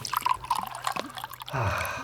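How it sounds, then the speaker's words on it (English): Carmenere red wine is poured from a bottle into a glass, starting with a few drips and splashes and then turning into a steady gurgling stream near the end, close and fairly quiet. "And now let's just pour some wine."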